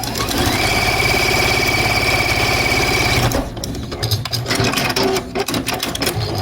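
Sewing machine stitching quilt pieces runs fast and steady in a dense mechanical whir for about three seconds, then stops, followed by quieter handling clicks and rustling with no talking.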